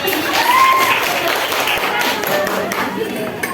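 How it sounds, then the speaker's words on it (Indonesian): Classroom group of students clapping, a short burst of dense applause with voices chattering over it. "Kalau gitu mau tepuk tangan lah"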